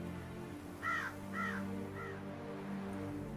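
Three harsh caws from a crow in The Witcher 3: Blood and Wine, evenly spaced and fairly clear above a steady low game-music drone.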